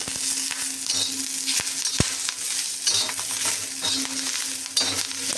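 Cumin being pan-roasted in a home kitchen, with a steady dry sizzle and a spoon repeatedly scraping and stirring the pan, occasional sharp metallic clinks, no voices.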